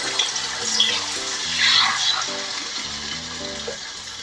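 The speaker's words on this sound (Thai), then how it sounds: "ตั้งกระทะให้ร้อนใส่น้ำมันไปสามช้อนโต๊ะ เอาไข่ ลงไปเจียวเลยค่ะ" Hot oil sizzling and crackling in a pan as a Thai omelette fries in three tablespoons of oil, steady and close, with a voice talking over it.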